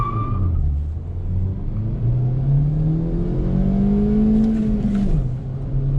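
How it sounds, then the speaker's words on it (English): A 2020 Hyundai i20 petrol engine revs up steadily in first gear to 2500 rpm in a rising drone, close and loud, then drops as the gear changes, with no voices. "First gear revving up to 2500 rpm"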